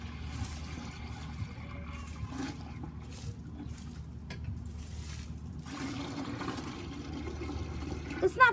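Water running into a turtle tank, a low, steady trickling fill with a soft gurgle throughout, ending in a few louder splashes and knocks.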